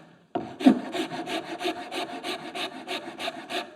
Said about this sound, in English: to make it smooth and comfortable, I'm going to go with a rasp